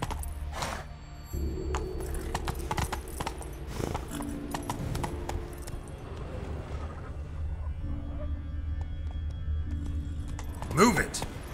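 A horse gallops in The Witcher 3, its rhythmic clip-clop of hooves running steadily under game music and occasional voices, with a sharp rise near the end.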